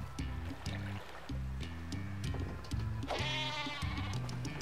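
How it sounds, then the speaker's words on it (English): Sheep in Worms Revolution bleat repeatedly in a steady wavering rhythm over a low trickling, water-like game background, loud and close with no talk. "That sheep."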